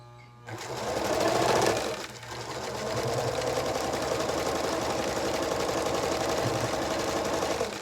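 Sewing machine stitching tiny quilt block strip sets: the motor starts with a loud burst, pauses briefly, then runs in a steady, close, continuous whir.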